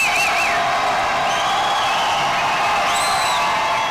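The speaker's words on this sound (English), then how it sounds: "You can hear the crowd behind us here at UTPA." A basketball crowd at UTPA, Texas Pan American, fills the arena with steady cheering and whoops, a broad wash of voices with a few shrill whistles cutting through.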